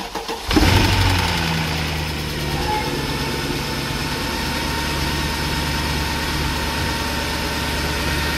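A 2008 Mercedes E63 with 175k km fires up after a brief crank, catching with a loud burst and then settling into a steady, close idle that runs without interruption and with no talking.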